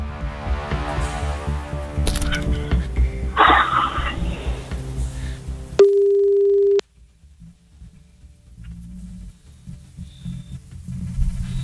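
A telephone call to Sidel rings out: after loud, noisy chatter, a single steady ringback tone sounds for about a second, followed by quiet line hiss.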